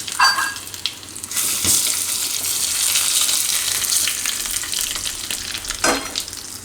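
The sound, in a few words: whole spices sizzling in hot oil for tempering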